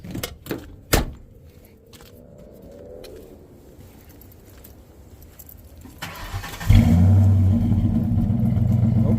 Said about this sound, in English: Look, he gonna give y'all that exhaust clip.